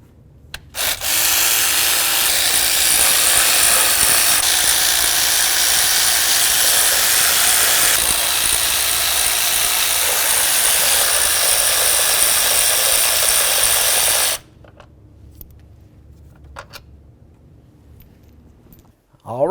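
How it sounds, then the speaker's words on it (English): A tool whirs steadily and loudly for about fourteen seconds while removing the 10mm exhaust manifold mounting bolts on a 2007-12 Nissan Sentra, then cuts off, leaving quiet room noise. "Let's start removing them all."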